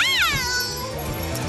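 A cartoon cat lets out one loud, drawn-out meow that slides down in pitch and fades, followed by quieter background sound.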